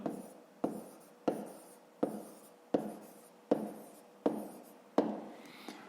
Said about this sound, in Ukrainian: Ну що ж, записуємо тоді відповідь. Пишемо відповідь.